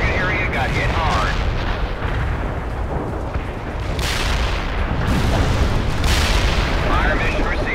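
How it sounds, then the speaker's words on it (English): Heavy artillery barrage in the strategy video game World in Conflict, rumbling booms and explosions rolling continuously at high volume with scattered radio voices mixed under the blasts. "Heavy artillery barrage inbound."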